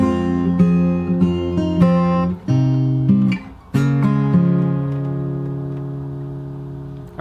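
A bar of a song played slowly as fingerstyle on guitar: plucked bass and melody notes at an unhurried pace, then a final chord left ringing, loud and close with no voice.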